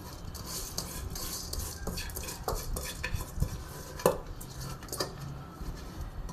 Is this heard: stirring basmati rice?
yes